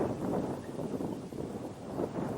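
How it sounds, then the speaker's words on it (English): Wind buffets a microphone outdoors at an air rifle shooting range, a steady low rumbling roar with gusty swells, faint and continuous with no other sounds standing out. "Stupid wind."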